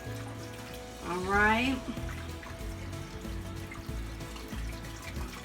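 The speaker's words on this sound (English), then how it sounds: "Always wash your hands after touching your hamburger meat before you touch your bacon." Hands being washed under a running kitchen tap while preparing bacon cheeseburger meatloaf, with water splashing steadily into the sink, close by. A person briefly speaks near the start over the flow.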